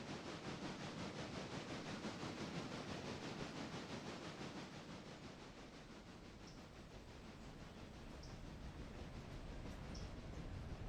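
Freight train cars move in the Railroader video game with a faint, continuous rolling rumble and a soft rhythmic clatter, steady and distant throughout.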